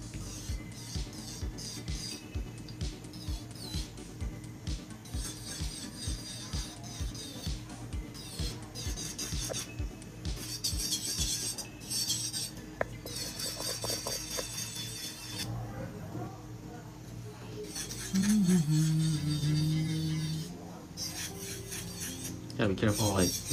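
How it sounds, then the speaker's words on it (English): An electric nail drill files acrylic powder nails during a full set with smoke marble and ombre designs. A rapid scratchy rasping repeats in short strokes, with a brief higher whirring pass near the end. "Not to put too much pressure on when you're drilling, especially when your application is very smooth"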